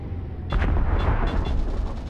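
Torpedoes launching in the space combat video game Angels Fall First, a loud booming blast followed by a rapid string of thudding launch bursts over a heavy background rumble.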